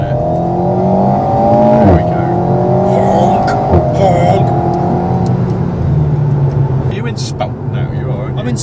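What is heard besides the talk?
Alpine A110 four-cylinder turbo engine exhaust crackle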